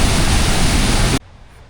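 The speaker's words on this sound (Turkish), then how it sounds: "Yani inanılmaz güzel bir şelale." The Ban Gioc waterfall in Cao Bang, North Vietnam, roars as a loud, dense broadband rush of falling water, close and constant, then cuts abruptly to quiet ambience.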